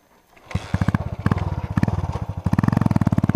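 A Honda CG motorcycle fitted with a GP Competition exhaust rides in the rain, its engine pulsing in loud, rapid, even bursts that grow denser as it revs up.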